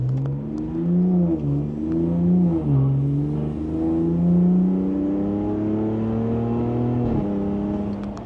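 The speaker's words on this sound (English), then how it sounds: "So you heard the turbo kind of like come up" A Ram RHO truck engine pulls hard at wide open throttle, its loud droning note rising and dipping in pitch as the turbo builds, close and steady for several seconds.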